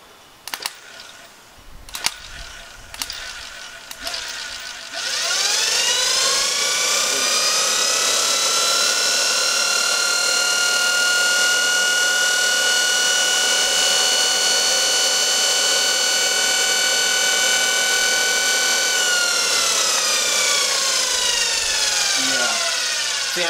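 A GE electric motor runs on 12 volts, spinning up after a few clicks and holding a steady, loud whine with a rich harmonic hum, then winding down near the end, with light wind in the background.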